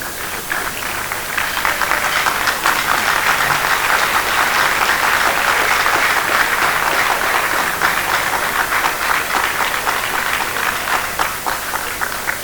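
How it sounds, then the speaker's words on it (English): A convocation audience at a university graduation ceremony gives a long round of applause, thick and even clapping from many hands that swells slightly and holds steady near the listener. "let's rise up and applaud these two gentlemen"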